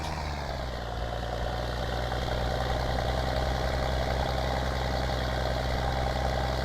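Farming Simulator 19 tractor sitting at idle: a continuous deep engine drone with a steady low throb, unbroken and moderately loud, with no voices.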